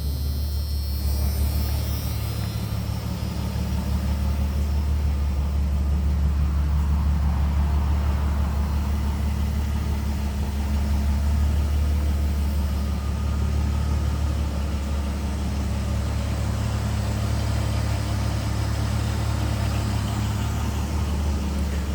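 A 1992 Jeep Cherokee XJ Limited idles steadily for the whole stretch with a newly fitted muffler and no tailpipe, giving a continuous low engine rumble heard close and without talk.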